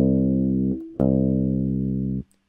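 Electric guitar with its low string tuned down to drop C, two sustained low plucked notes ringing close and clear, the first cut short before the second rings on and is damped.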